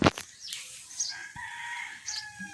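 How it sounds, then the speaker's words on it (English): A bird calls in the background near a home, with a few short, faint-to-moderate clucking, rooster-like calls spread over a couple of seconds and no voices. "As you can hear, there is a bird chirping in my background"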